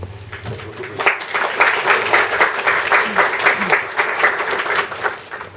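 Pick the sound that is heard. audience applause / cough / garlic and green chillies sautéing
audience applause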